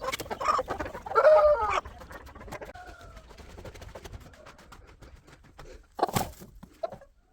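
A broody hen clucks and grumbles in short bursts while being settled onto a clutch of eggs, close and fairly quiet, with soft rustling and a louder squawking outburst toward the end.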